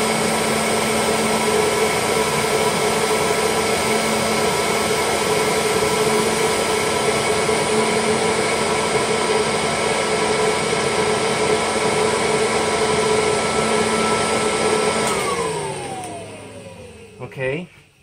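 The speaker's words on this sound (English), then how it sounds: "how well this machine will do sucking air through a medium pile carpet" A Kirby Heritage II upright vacuum cleaner runs steadily and loudly on medium pile carpet with its brush roll off, a constant whining motor drone that winds down near the end as the machine is switched off.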